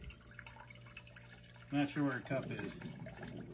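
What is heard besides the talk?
pouring water into a measuring cup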